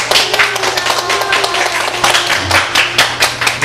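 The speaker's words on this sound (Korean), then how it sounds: "우리 박수로 환영하겠습니다" Church congregation at an Easter Sunday service claps to welcome returning visitors, a close, loud burst of brisk overlapping hand claps with a low hum underneath.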